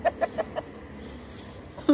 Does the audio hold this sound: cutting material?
no